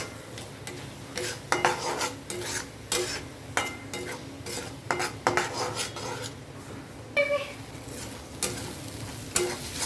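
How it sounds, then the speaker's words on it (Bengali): Ginger, garlic and green chili paste sizzles in a pan while a metal spatula scrapes and stirs it in repeated, uneven strokes, close and fairly loud, with no talking. "আদা রসুনের পেস্টটা দিয়ে আমি 2-3 মিনিট আরও ভালোভাবে ভেজে নিয়েছি।"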